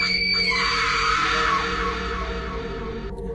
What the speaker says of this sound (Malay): satu jeritan nyaring bergema dari arah bilik